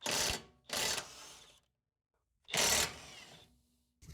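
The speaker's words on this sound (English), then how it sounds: "And I can use my impact gun to open up these guys." An impact gun loosens brake caliper bolts on a Mercedes W176 A180, firing three sharp rattling bursts with short pauses between them.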